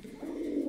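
Pigeons in a Turkish pigeon shop give a low, steady cooing that swells after a brief quieter start, close and continuous through the short moment.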